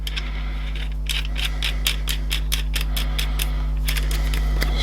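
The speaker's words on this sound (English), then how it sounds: "you've watched a man turning lots of nuts" Nuts are turned and tightened by hand on a three-wheel polishing kit, a series of small sharp metallic clicks and ratcheting ticks over a steady low mechanical hum.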